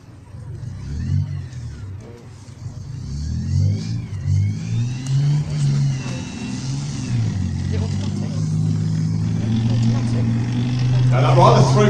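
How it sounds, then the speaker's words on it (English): A tank's engine, taken from an E-Type Jaguar, gives a throaty roar that slowly builds in loudness and pitch, with someone talking over it the whole time. "Now that rather throaty roar you can hear there is from an interesting engine."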